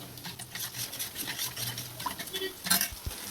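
Stirring a spice mix of turmeric, masala powder and salt in a pan while cooking fish curry, with soft scraping and patting strokes from a spoon against the vessel, close and fairly quiet, ending in a couple of sharper taps.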